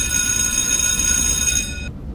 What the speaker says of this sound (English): Sure sounds like a train to me.